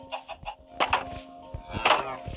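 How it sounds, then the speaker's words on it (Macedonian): Chickens cluck in a video game: short repeated clucks in quick bursts, fairly close and clear, with a faint electronic tone held underneath. "ете ви 5 кокошки"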